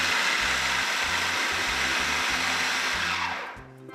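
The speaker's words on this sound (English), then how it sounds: "blend everything in the food processor" A food processor whirs steadily as it blends a Jamaican seasoning paste for beef patty filling, a loud continuous motor drone with a rhythmic pulsing churn that stops abruptly near the end.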